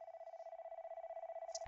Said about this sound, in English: all of a sudden you get a phone call